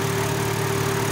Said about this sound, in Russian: Самый современный, самый крутой, самый надежный мотор от BMW на сегодняшний день.